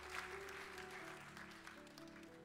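An audience in a church applauds steadily, a continuous wash of many hands clapping at a moderate distance, without pauses.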